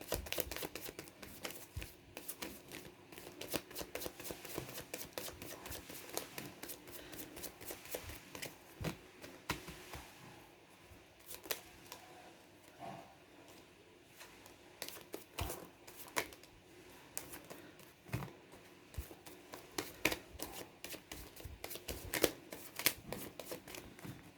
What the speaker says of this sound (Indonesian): sambil saya baca doa dan saya kocok kartu